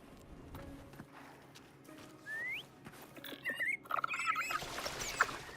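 Several short, thin rising whistles call the creature Foam in the video game Wuthering Waves, with faint patter and background game sound around them.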